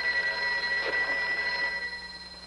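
A telephone rings in a 1950s television drama, a steady electric bell tone that holds at moderate loudness and then tapers off, with no voices.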